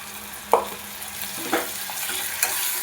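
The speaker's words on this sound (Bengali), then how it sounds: "দিয়ে মশলাটা খুব ভালো মতো কষিয়ে নেব" Spice masala with coriander and cumin powder fries in a pan with a little water, a soft steady sizzle broken by three spaced scraping stirs of a spoon.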